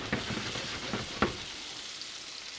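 Onions fry in hot butter in a pan with a close, steady sizzle. A few clicks and stirring knocks come in the first second or so, then the hiss settles and softens, with no voices.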